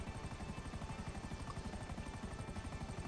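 An aircraft in GTA Online flies away, a steady, faint rhythmic rotor-like drone pulsing evenly throughout with no voices over it.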